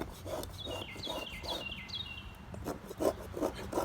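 A spokeshave rasps across wood in quick repeated strokes while carving a decoy, a dry scraping rhythm close up, with faint chirps in the background.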